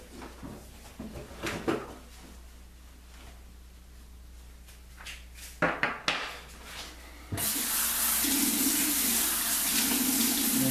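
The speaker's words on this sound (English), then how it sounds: "Another cold water rinse." Quiet handling clatter and small knocks during a wet shave, then a tap turns on and cold rinse water runs steadily and close for the last few seconds.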